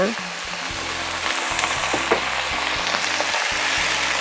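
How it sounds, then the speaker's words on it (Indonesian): Half-wilted eggplant sizzles and fries loudly in a pan as water is added, a steady close hiss with faint stirring scrapes running throughout. "Terongnya sudah setengah layu, saya akan masukkan air ya"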